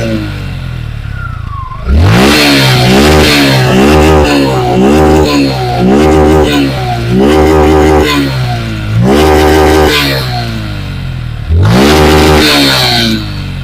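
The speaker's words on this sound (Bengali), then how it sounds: "তো চলুন এই বাইকটি স্টার্ট করে আপনাদেরকে সাউন্ডটাও শোনাবো।" A Suzuki Gixxer SF motorcycle in fresh condition fires up and is revved repeatedly, a series of loud, close throttle blips rising and falling over a steady idle, with a few stronger revs near the end.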